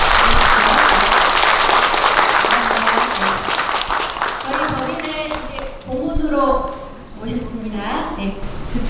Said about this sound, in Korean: 인사해 주시도록 큰 박수로 네.